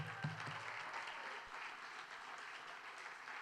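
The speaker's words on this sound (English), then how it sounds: "Let's give him another round of applause." Concert audience clapping steadily in a playhouse at a street arts event, dense and continuous applause throughout with no voices standing out.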